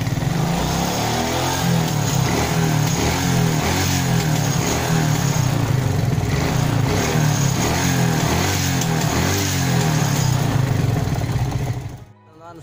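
A motorcycle engine revs steadily after a carburetor adjustment, a loud, close, continuous buzzing drone with a rhythmic pulse that holds for most of the time and then cuts off abruptly near the end.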